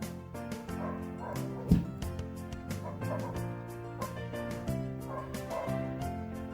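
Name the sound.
dogs barking out in the street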